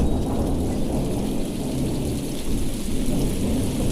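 A thunderstorm sound effect: heavy, steady rain pours over a continuous low rumble of thunder, loud and unbroken throughout, with no voices.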